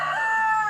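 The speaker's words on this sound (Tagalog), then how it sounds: "oo, manok" A rooster crows loud and close in one sustained cock-a-doodle-doo, its strong tonal call held steady from start to finish with nothing else over it.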